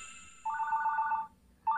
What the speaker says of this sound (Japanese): え、お兄さんから電話？